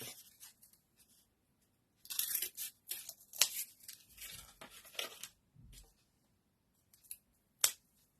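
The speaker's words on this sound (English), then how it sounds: "Let's cut another piece." Scissors cut a piece of paper during a die-cut foil crafting session, a series of quiet, close snips and crisp tearing rustles in short clusters separated by pauses, with no talk.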